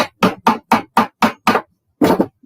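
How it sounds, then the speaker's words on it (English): Rubber mallet striking a ring on a mandrel in sharp, evenly spaced blows, eight close thuds in steady rhythm with a brief pause before the last, loud and alone. "So basically I'm whacking this, getting the shape, and I'm just using like the rubber mallet."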